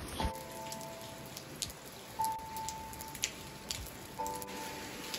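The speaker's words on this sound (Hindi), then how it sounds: "बारिश तो काफ़ी तेज़ होना स्टार्ट हो गई है।" Heavy rain falls steadily outdoors, a soft continuous patter with scattered louder drops and a faint tonal hum in the background.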